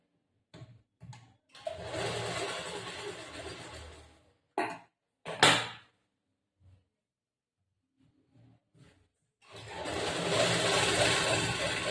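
A sewing machine stitches a back-hook blouse in short bursts of whirring, then stops for quiet pauses and faint handling noises before a final longer run of stitching, fairly close.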